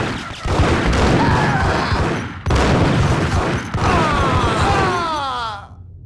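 Gunfire in the Max Payne video game: a rapid, loud fusillade of shots and booms in dense bursts, broken by brief pauses, with a shouted voice and game music mixed in.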